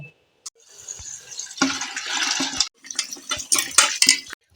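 Cut potatoes and spring onions being washed in water: splashing and running water with clattering bowl and utensil sounds, in intermittent bursts, close by.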